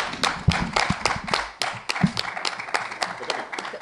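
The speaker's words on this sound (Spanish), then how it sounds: "Un aplauso." Brief burst of audience applause at a small literary event, scattered claps from a modest group in a room, fairly close and lasting a few seconds.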